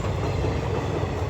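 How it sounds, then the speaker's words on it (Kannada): A Chennai Express train passing close by, a dense continuous low rumble and rolling clatter of rail cars, loud and unbroken with no voices. "ಟ್ರೈನ್ ಕೂಡ ಬಂದು ಇದು ನಮ್ಮೂರಿಗೆ ದೊಡ್ಡ ಟ್ರೈನ್"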